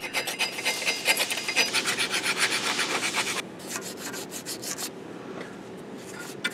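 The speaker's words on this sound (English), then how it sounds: "Use a file to remove any rust down to solid metal." Rhythmic rasping strokes of a metal file scraping rust off a 2001–2007 wheel hub, steady and close for a few seconds, then lighter, more scattered strokes.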